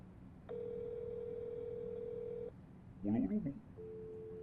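Telephone call tone in the Roblox game Thats Not My Blocky Neighbor: a steady electronic ring holds for about two seconds, then breaks off. A brief voice follows, and then a softer tone resumes.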